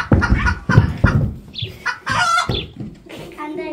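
Chicken clucking in a farmyard, a series of loud, close squawks and clucks in bursts with some voice-like sounds mixed in.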